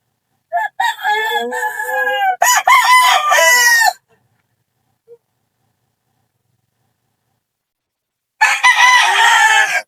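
Labuyo-line gamefowl roosters crow loudly and close by in two back-to-back calls, with another crow following after a long silent gap.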